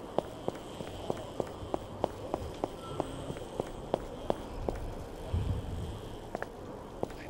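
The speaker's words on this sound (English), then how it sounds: "I'm hearing footsteps." Footsteps in the survival game 7 Days to Die: a steady, evenly spaced run of soft thudding steps over low ambient rumble, moderately faint and continuing throughout with a brief scuffle near the end.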